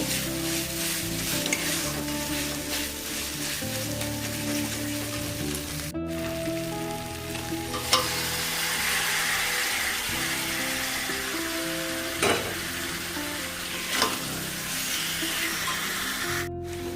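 Spice masala fries and is stirred in a pan: a steady close sizzle runs throughout, with scraping stir strokes and a few sharper spatters on top. No one speaks.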